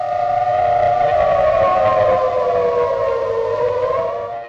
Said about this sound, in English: They were designed to produce an ascending and descending tone, a wailing sound that would alert citizens to seek immediate shelter.